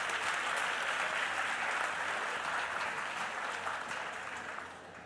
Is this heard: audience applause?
yes